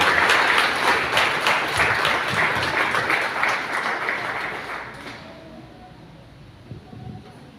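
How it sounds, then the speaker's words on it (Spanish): A church congregation claps and praises during a Sunday worship service, broad dense applause filling the room for about five seconds before fading into quieter murmur. "Denle palmas al Señor en esta preciosa mañana."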